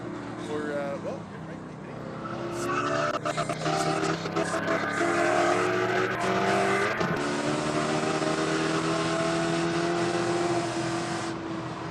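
Onboard a Spec Corvette race car at Buttonwillow Raceway Park, the engine drones and climbs through gears with a loud steady roar, while voices talk over it.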